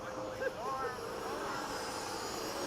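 Radio-controlled Hawk model airplanes fly in formation at Bayside, their engines giving a continuous buzzing drone at a distance, with brief voices over it.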